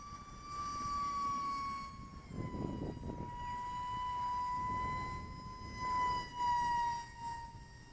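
An E-flite Habu S UMX radio-controlled jet makes a high-speed pass, giving a steady, loud whine that holds a strong tone across the whole stretch and slowly drops in pitch as it goes by, with no voices.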